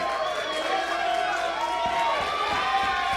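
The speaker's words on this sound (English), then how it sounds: "You can hear this crowd getting up, rallying behind Anthony Greene" A wrestling crowd at a Skywalker title match rallies behind Anthony Greene, a broad roar of cheering under continuous ringside commentary.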